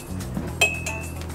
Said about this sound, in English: Give it a quick stir to integrate.